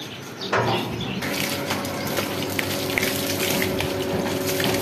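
Water runs steadily from a tap or pump while a goat is bathed, a loud and constant gushing stream close by that starts abruptly and carries on without a break.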